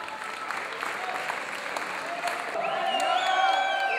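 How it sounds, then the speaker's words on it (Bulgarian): An audience at a pageant for school-leaver contestants applauds, a steady wash of clapping that swells slightly toward the end, with music rising underneath. "Аплодисменти за нашите участници."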